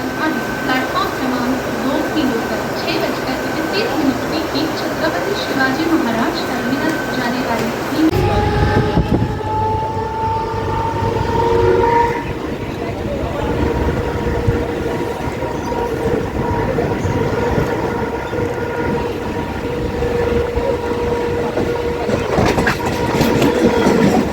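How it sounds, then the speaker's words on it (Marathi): Mumbai local train arriving, then riding: a loud, steady rumble gives way to rattling carriage noise and drawn-out metallic whines, with voices faintly under the din. "आता आपली ट्रेन आली आहे ट्रेनमध्ये जाऊया"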